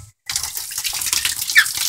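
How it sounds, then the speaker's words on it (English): Filtered rainwater gushes from a barrel spout in a steady, close pour that starts abruptly after a brief silence and keeps running without talk. "nice clean water coming out of here"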